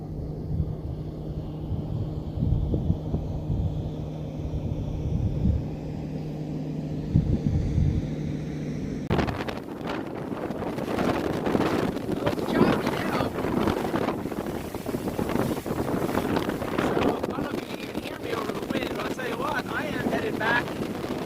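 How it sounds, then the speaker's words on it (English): Boats on Perry Lake, an outboard drone near the start giving way to broad rushing water and wind noise as boats pass nearby, steady and fairly loud throughout. "And here comes some more boats."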